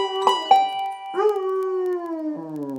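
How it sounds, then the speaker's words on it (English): A basset hound gives a couple of short yips, then lets out a long, drawn-out howl that slowly falls in pitch, close and clear. "I want you to really howl if you like this one"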